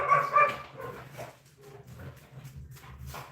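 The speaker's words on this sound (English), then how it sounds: "And then she hears all the other dogs barking" Several dogs, including a German Shepherd, bark and yip at a distance in a home with puppies, a few short irregular bursts amid quiet background.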